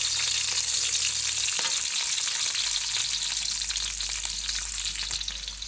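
Bicol Express frying in a pan, a continuous loud sizzle with occasional stirring scrapes and a low rumble underneath.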